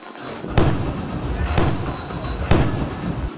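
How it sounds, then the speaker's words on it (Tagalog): New Year fireworks explode in three sharp, booming bursts spaced about a second apart, echoing over a noisy outdoor background. "Tuwing sasapit ang bagong taon, bida ang fireworks."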